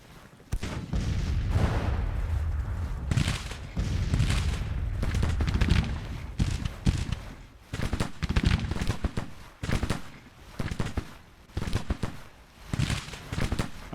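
Artillery cannons firing on a Civil War battlefield in a strategy game, loud repeated booms and cracks in irregular bursts, some shots overlapping in heavy volleys, then sharper spaced reports toward the end.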